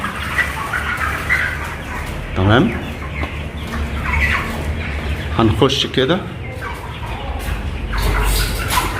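Muscovy ducks, 37 days old, call on a farm in clustered quacks and clucks close by, mixed with farm noise while someone talks over them.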